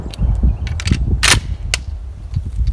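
A Panzer M4 semi-automatic shotgun fires Winchester 1.25-ounce birdshot, with one sharp, loud shot and a second fainter crack a moment later against low rumbling background noise.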